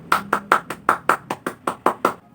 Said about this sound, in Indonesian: Mari kita berikan tepuk tangan untuk Dimas